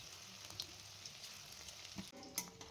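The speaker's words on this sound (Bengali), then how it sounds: "আর তেল গরম হতেই আমি এখানে সেই চিকেনগুলোকে ভালো মতো করে ভেজে নিতে হবে" Chicken pieces for chilli chicken deep fry in hot oil, a quiet continuous bubbling sizzle punctuated by a few soft clinks and knocks, with no speech.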